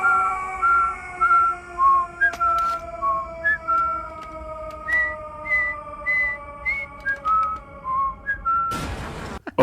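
A person whistles a tune of short clear notes in a steady melodic run, close and alone, ending with a sudden crash as a character falls in a Lego Star Wars scene.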